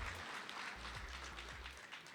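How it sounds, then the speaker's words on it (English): Audience applause for the guest of honor at an international business conference, a steady, moderately distant wash of clapping held for about two seconds over a low background hum. "A big round of applause to our honorable guest of honor."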